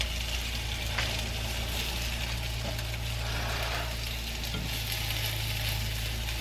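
Loaded potato cakes browning in a frying pan give a constant, even sizzle with faint bubbling and an occasional soft scrape, heard close and alone without speech.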